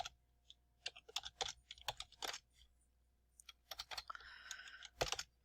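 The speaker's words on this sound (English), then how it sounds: "So we're gonna type in marketing department." Fingers tap out words on a computer keyboard in quick, irregular bursts of crisp key clicks, with a short pause midway, then more rapid typing, fairly close and quiet, with no speech.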